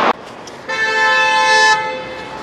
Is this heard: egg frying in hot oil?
no